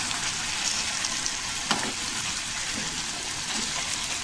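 Chicken with four or five green chilies sizzling steadily in a pan while being stirred, a continuous frying hiss with faint scraping of the spoon, no talking.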